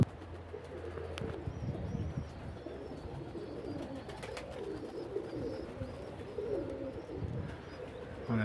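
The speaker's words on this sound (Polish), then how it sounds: "bo to są fajne gołębie" Pigeons in a breeding loft coo softly and repeatedly, a low rolling burble near the birds, with occasional chirps and faint wing flutters in the background.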